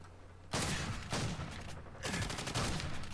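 Hip-fired gun bursts in the video game Call of Duty 4: Modern Warfare, two or three loud rapid volleys of automatic fire separated by short pauses, close and punchy.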